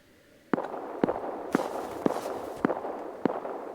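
Gunfire in the survival game Rust: about six sharp, loud single shots fire at a steady, roughly half-second pace over a constant background hum.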